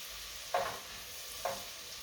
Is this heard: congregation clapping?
no